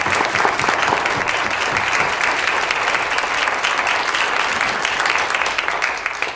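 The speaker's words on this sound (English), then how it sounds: "so please give them some applause." An audience at an Iowa House District 65 candidate forum held in a school district facility applauds the candidates: loud, dense, sustained clapping that stays steady for several seconds before tapering slightly at the end.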